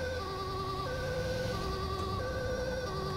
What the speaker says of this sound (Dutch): sirene hebben we dan deze.